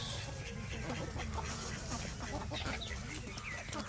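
Chicks and chickens cluck and peep near and far in a continuous, busy farmyard chatter while feeding from a hand, with someone talking over the birds.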